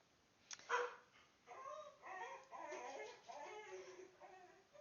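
A dog barks and whimpers indoors at a moderate distance, a few sharp yips followed by softer whining vocal sounds, fairly quiet overall.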